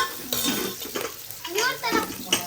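Sambar ingredients fry in a pan as a spoon stirs and scrapes against it, with intermittent clinks and soft sizzling, while voices murmur nearby.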